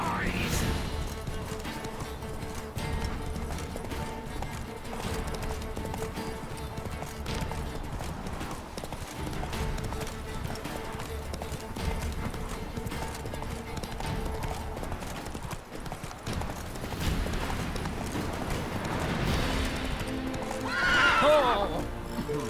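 Galloping hooves pound continuously for a long stretch in The Witcher 3: Wild Hunt, with horses whinnying and occasional voices mixed underneath.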